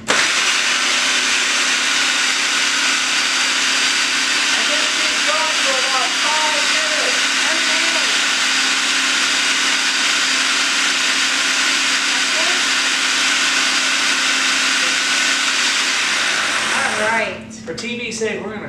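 Steady, loud blender whir pureeing cooked cauliflower into a fine, smooth mash, running continuously for nearly the whole stretch before cutting off near the end.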